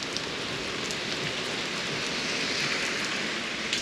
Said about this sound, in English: Now they usually will practice in this, but it's thunder and hail